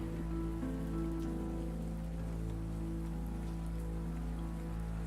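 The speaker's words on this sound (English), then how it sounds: "I love the sound of the rain." Steady heavy rain from the game Rainswept patters continuously beneath a low, sustained musical drone, with no voices.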